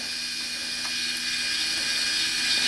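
A small Hornady power deburring tool whirs steadily as 5.56 military brass is deburred, a continuous high-pitched motor whine, close and fairly loud, with no talking.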